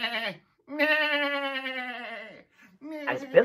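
A human voice imitates a goat's bleat in a children's storytelling play, a long wavering nasal 'baa' preceded and followed by shorter vocal sounds, close and clear.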